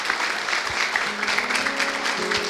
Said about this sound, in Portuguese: Dê um aplauso aí, por favor. Escute o aplauso.